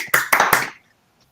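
Three or four quick bursts of hand clapping from a small online conference audience, close and fairly loud, fading out after under a second.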